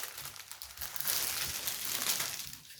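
Thick transparent paper from a diamond painting kit is handled and shifted. It gives soft, irregular crinkling and rustling that stays quiet and close, swelling slightly in the middle, with no voices.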